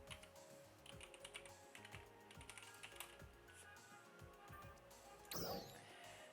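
Quick bursts of typing on a computer keyboard, close and fairly quiet, with clustered key clicks throughout and a brief louder clatter near the end.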